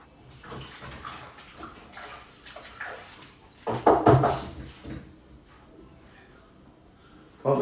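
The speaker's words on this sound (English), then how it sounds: "Wash my hands." Water runs from a tap while someone washes their hands at home, a steady splashing stream rising to a louder surge midway before easing off.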